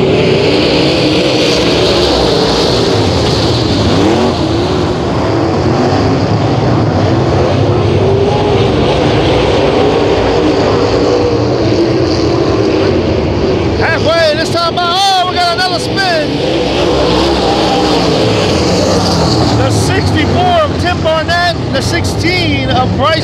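Race cars restart at Hattiesburg Speedway: a loud, continuous roar of engines with wind buffeting the microphone, swelling into a rising, whining rush of cars accelerating past near the end.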